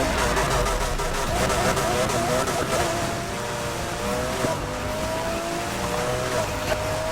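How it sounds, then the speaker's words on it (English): Porsche racing car in the street racing game NFS Heat, a sustained engine roar with rising gear-change whines and light tire squeal, steady and close throughout. "this is probably the last race, so I'll just run around with this Porsche"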